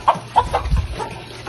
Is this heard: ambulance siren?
no